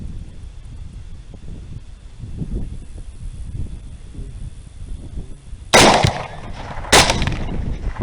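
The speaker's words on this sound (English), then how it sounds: "We both shoot." Two sharp gunshots during a night thermal hog hunt, about a second apart, loud and close, after several seconds of quiet outdoor wind and rustling.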